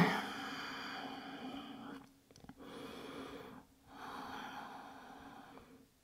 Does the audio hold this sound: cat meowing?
no